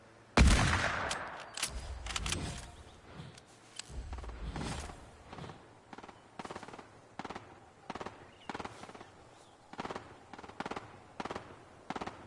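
Sniper rifle gunfire in Fortnite: a loud opening shot followed by a long, steady run of sharp, separate shots, each roughly a second apart, with no talking.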